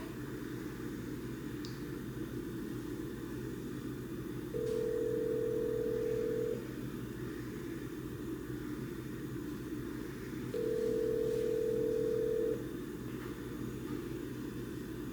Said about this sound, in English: Okay, I am dialing the phone number.